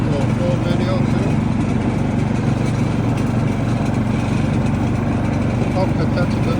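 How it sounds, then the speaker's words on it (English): A Cub Cadet riding lawn mower runs nearby, giving a steady, loud engine drone with a constant low rumble and no pauses. "that's a good lawnmower, really good lawnmower"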